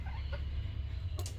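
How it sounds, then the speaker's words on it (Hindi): White and black hens with a rooster on a small backyard farm, soft clucks and brief calls over steady low rumbling background noise, a sharper call near the end. "बाकी इधर है ये वाइट कलर का 2 मुर्गी है मेरे पास"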